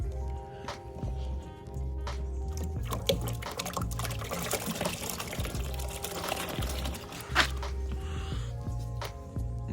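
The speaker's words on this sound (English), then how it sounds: "So now he's gonna dump in the anchovies." Bait anchovies dumped into a cooler with water being poured, at a Bay Area fishing spot: steady liquid gushing and sloshing with wet squishy thumps, continuous and fairly close, a louder splash near the end.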